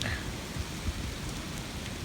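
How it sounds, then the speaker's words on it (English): Cold rain falls steadily outdoors in windy, stormy weather, a continuous soft hiss with scattered drop patter and no clear voices. "It's raining again, I gotta go back in."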